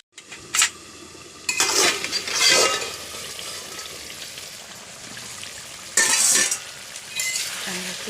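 A spoon stirs chicken khichuri in a cooking pot, giving a few scraping, clattering strokes against the metal amid a soft, continuous sizzle from the pot.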